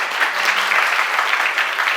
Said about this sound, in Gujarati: આપણે દાતાઓને એક સાથે તાળીઓથી વધાવી લઈએ